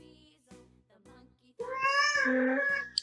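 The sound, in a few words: cat meowing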